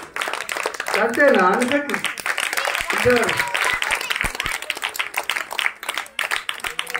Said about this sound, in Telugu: మనల్ని నడిపించిన అక్కకు ఒకసారి క్లాప్ చేద్దామా?